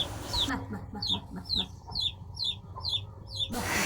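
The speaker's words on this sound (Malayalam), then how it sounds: "ഇപ്പോഴാണ് കോഴിക്കുഞ്ഞിൻ്റെ ശബ്ദം ഞങ്ങൾ കേൾക്കുന്നത്" A run of short, high chicken chick chirps at night repeating at an even pace, fairly close, over a low background hum.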